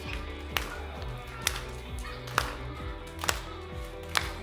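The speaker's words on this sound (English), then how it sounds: "Start moving around, clapping our hands." Hands clap together in a steady beat, about five sharp claps spaced just under a second apart, over music at an outdoor children's church service in a park.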